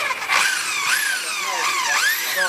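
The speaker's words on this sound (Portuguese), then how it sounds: "ao abrir essa chapa de ferro e furar com a furadeira, vejam só" A power drill bores into an iron sheet with a loud, close whine whose pitch climbs and dips in repeated sweeps as the bit bites into the metal.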